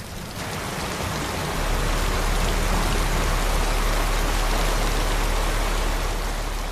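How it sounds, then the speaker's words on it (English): Heavy rain pouring steadily, a dense continuous hiss with a low rumbling undertone, no voices. "The rain doesn't stop."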